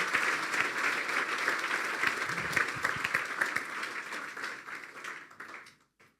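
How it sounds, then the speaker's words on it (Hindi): A church congregation applauds loudly during a sermon with sustained, dense clapping that fades out near the end. "फिर ताली बजा दें यीशु के लिए"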